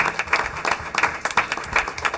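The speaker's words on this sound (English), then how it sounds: "Let's give them a big round of applause again" Audience at a school district board meeting giving a round of applause, a dense steady patter of many hands clapping throughout, fairly close.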